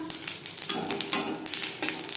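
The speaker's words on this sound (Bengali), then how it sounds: "কড়াইতে আবারও তেল দিয়েছি। দিয়ে দিলাম একটা তেজপাতা" A bay leaf fries in hot oil in a kadai, giving a steady close sizzle with soft crackling bursts and no voices.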